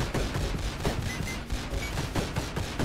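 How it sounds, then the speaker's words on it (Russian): Dense, rapid gunfire rattles continuously in the isometric shooter Dead Estate, loud and close, a fast even stream of shots with no pauses and no speech. "Я просто стреляю по нему"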